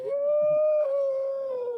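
A single dog gives one long, close, steady howl that holds its pitch before tapering off.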